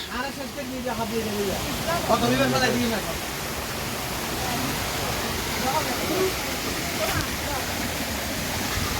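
Waterfall at Dhumnighat, a rocky stream area in Mahalchhari during the monsoon, giving a steady broadband rush of falling water, with voices speaking briefly over it.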